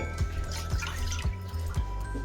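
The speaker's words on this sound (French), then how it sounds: "Je vais rajouter le lait" Milk is poured into a pan for gratin dauphinois, a close liquid stream with soft, regular glugging pulses.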